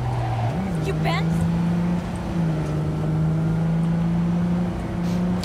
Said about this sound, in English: What a great car this really truly is. It's a fantastic car.